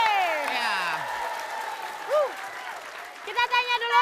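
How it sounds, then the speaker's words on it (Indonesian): A studio audience gives a burst of applause while voices and whooping cries ring over the clapping. "Kita berikan tepuk tangan dulu dong Pas Desi, Mbak Nunung dan Mas Eko."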